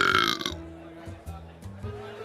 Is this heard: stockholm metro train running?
no